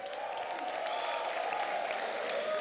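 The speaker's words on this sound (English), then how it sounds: "a round of applause for our panelists" A seated audience applauds panelists at a conference event. The clapping is dense, continuous and moderately distant, holding steady for a couple of seconds.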